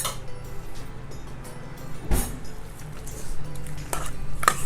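A big spoon mixing a chilli marinade in a bowl, giving uneven clinks and scrapes with one sharp knock near the middle, close and moderately loud, no talking.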